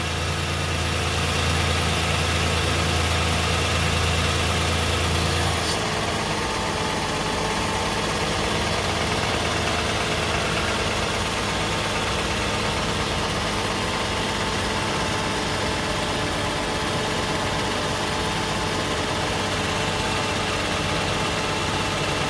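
A 2019 Toyota Highlander SE idles steadily after an oil change, a close, even engine hum with constant vibration and no speech, a slight shift in tone partway through.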